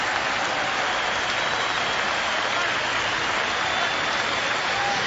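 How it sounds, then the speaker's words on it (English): Cricket crowd applauding the Indian captain during the 1997 Cape Town Test against South Africa, a dense continuous wash of distant clapping that sounds almost like steady rain, with no voices over it. "Generous round of applause for the Indian captain."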